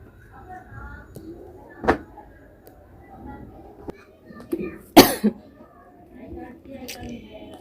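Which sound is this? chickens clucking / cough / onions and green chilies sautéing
cough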